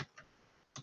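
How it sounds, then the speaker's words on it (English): Brief keystrokes on a computer keyboard during a software demo: three quiet, light clicks, one at the start, one a moment later and a last one near the end, with near silence between them. "start typing in the instructions of exactly what kind of documentation we're looking for"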